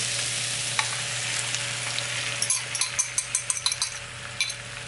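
Eggs frying in a pan for a home breakfast, a steady broadband sizzle throughout with a run of sharper crackles and pops bursting out near the end, close and fairly loud.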